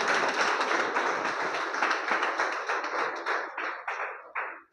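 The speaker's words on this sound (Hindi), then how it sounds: "एक जोरदार ताली होनी चाहिए खुद के लिए।" A seminar audience gives a loud burst of clapping in a hall, dense and sustained for several seconds, then thinning into a few scattered claps before stopping.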